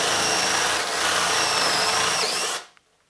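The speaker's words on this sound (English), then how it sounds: "when you're doing these larger holes, especially when you're stepping up from like this size up to what we're drilling, don't put a lot of downward pressure on the bit" A power drill whines steadily as it steps a bit up through a hole in a metal amplifier chassis, loud and close for over two seconds before spinning down and stopping abruptly.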